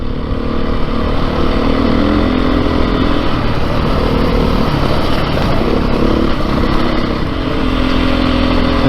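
A 2022 Beta 430 RR-S dirt bike engine drones loud and close while riding, a steady throaty roar with slight rises and falls in pitch throughout.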